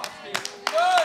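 A handful of people clap in a church congregation, a few sparse, separated claps followed by a voice beginning to speak.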